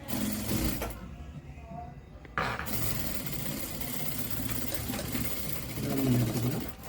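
A sewing machine running steadily while stitching a blouse front, its continuous whirring stopping briefly before starting up again, with a voice speaking over it.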